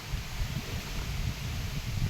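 Strong wind gusts steadily through a garden, a continuous low roaring rush with no pauses, close to the microphone and with no voices.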